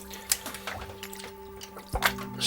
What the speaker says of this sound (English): this is fresh water going on top of it here and draining out of there